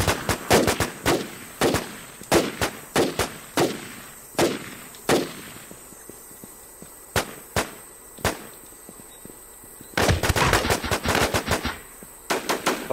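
Another player's gun rattles off in a video game, repeated sharp bursts of automatic shots in uneven clusters, loud and close, with a short lull midway before a dense volley at the end.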